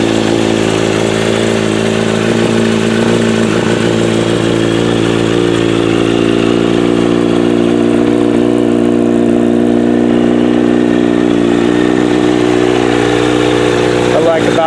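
Kawasaki Z900RS Cafe motorcycle with a Dale Walker Holeshot exhaust, engine started stone cold and idling with a steady, loud low rumble throughout, a voice talking over it.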